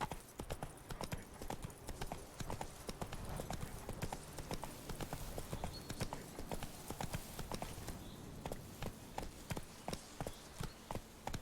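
Horse hooves trotting at a steady, quick clip-clop rhythm in the video game The Witcher 3: Wild Hunt, each footfall sharp and evenly spaced, continuing without pause.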